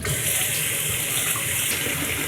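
Tap water runs steadily over dried young seaweed being rinsed in a kitchen sink, a close, even splashing hiss with no pauses or talk.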